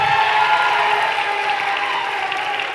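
A hall audience at a comedy game show breaks into loud, sustained applause for a college student coming on stage, a dense wash of clapping that stays level for the whole stretch with no voices over it.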